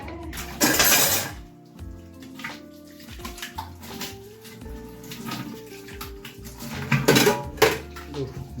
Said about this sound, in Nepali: अब म भाँडा मोल्छु